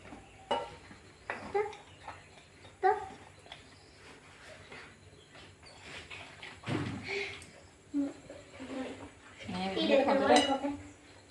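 Pancake batter is mixed in a bowl for Sri Lankan pancakes, with intermittent clinks and scrapes of a utensil against the bowl and a busier stretch of stirring near the end, alongside some speech.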